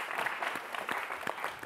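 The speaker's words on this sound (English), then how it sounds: "So give them a round of applause." A brief burst of audience clapping for debate teams at a televised debate final, moderately loud and dense across the short stretch.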